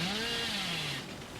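A chainsaw in the video game Dead by Daylight revs in a loud steady drone, its pitch sliding slightly downward and then easing off.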